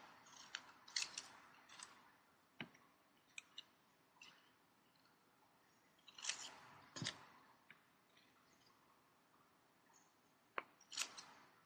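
Scissors snipping through a paper circle in a fraction lesson, a string of short crisp cuts in small bursts separated by quiet pauses, close by with no talking.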